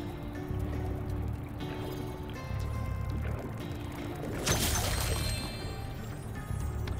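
Water fills up in the Spyro 2: Ripto's Rage game, a soft steady rushing with a brief louder splashing swell midway, moderately quiet and continuous.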